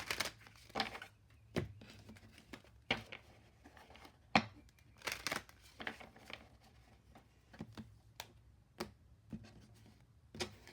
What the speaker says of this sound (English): I'm going to just go ahead and shuffle these again